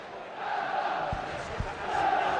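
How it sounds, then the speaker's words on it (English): Modest crowd at a Burnley home football match against Aston Villa in a 2004 Carling Cup tie, a steady broad murmur and cheer filling the stadium, with a couple of brief low thumps partway through. "Excellent stuff from Burnley so far, and it's got the crowd going"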